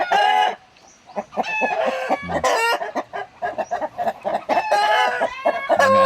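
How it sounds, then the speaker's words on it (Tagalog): A flock of large farm-raised chickens clucks while roosters crow loudly and repeatedly close by, their calls overlapping in a busy, continuous barnyard chorus. "Dami niyang alagang manok dito."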